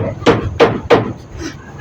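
Hammering at a house under construction: three loud, close pounding blows in quick even succession, followed by a fainter fourth knock.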